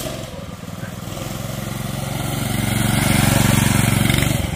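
A mini bike fitted with a 212cc 7HP engine runs nearby, a rough, rapid single-cylinder putter that stays near idle and swells slightly louder midway, with no clear talk over it.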